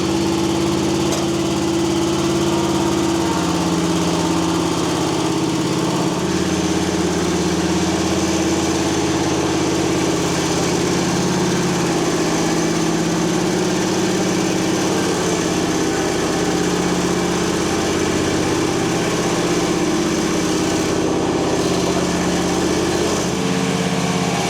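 A free commercial lawn mower's engine idles steadily and close by, a continuous low drone with a constant tone and no speech.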